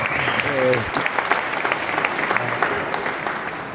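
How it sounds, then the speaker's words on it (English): An audience at a startup pitch session at a summit breaks into sustained applause, with a brief voice rising through the clapping near the start and a dense patter continuing to the end. "that's the applause"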